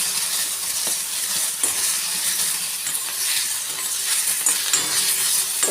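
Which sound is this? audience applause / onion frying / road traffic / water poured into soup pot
onion frying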